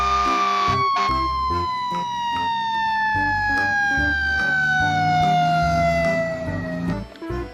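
Toy fire truck siren: a loud, electronic wailing tone sweeping slowly downward, repeating over a rhythmic beeping pattern, close and continuous for several seconds before cutting off.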